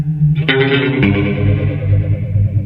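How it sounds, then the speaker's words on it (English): A Boss PS-3 pitch shifter and delay pedal with its feedback turned up, a guitar note smearing into loud, dense warbling repeats that swirl continuously for a few seconds, with a couple of fresh attacks near the start. "if we bring that feedback up, we'll really get some kind of crazy warbles out of this"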